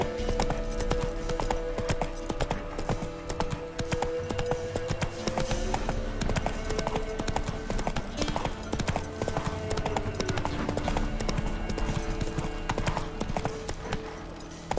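Roach the horse gallops in The Witcher 3 with a continuous rapid clip-clop of hooves, loud and near, over a dense game soundscape.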